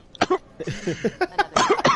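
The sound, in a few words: cough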